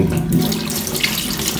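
Hot water runs steadily from a kitchen faucet into a sink, a close, continuous splashing rush with no talking.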